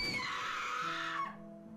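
Piercing, sustained screaming in a dark audio drama scene, a loud continuous shriek that cuts off abruptly, leaving a faint low tonal hum underneath.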